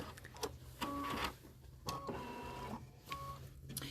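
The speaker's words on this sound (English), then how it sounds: "Just a little bit more of our satin stitching." An embroidery machine satin stitching a Kimberbell design onto a towel, its motor whirring and buzzing close up in short repeated bursts with brief pauses between them.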